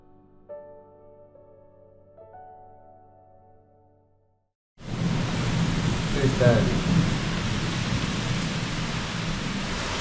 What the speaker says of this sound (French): En fait, c'est un orage.